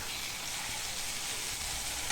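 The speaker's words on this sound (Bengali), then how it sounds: "এই যে কষিয়ে নিচ্ছি" Ginger, garlic, onion and chili sautéing in oil give a steady close sizzle and hiss with faint stirring, no voices.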